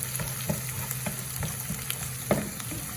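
Tender corn frying in a pan with onion and green chili, with a soft steady sizzle and spoon strokes scraping at irregular intervals, fairly quiet and close.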